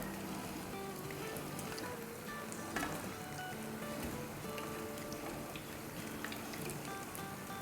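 Crispy fried paneer for chili paneer crackles in a hot pan over high flame, with a steady, fine sizzle of popping oil and occasional sharper pops throughout.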